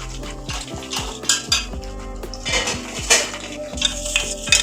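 Curry leaves frying in a small amount of oil in a pan, with repeated metallic clinks and scrapes of a utensil against the pan over a light sizzle, close and fairly loud, without any talking.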